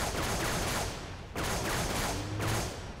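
Rapid weapon fire in Halo 3, steady bursts of shots in two waves separated by a brief gap, moderately loud in a busy combat mix.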